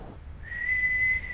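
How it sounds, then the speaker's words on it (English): A thin, steady whistle from a person's nose breathing rises in and holds for about a second over low room rumble, fairly clear and with no talk. "What's that whistling?"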